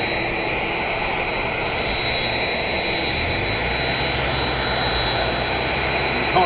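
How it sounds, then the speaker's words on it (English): Jet aircraft engines taxiing in to park airside at East Midlands Airport, a steady loud broadband roar with a sustained high whine, continuous throughout and swelling slightly toward the end. "Listen to those engines as the taxi's in"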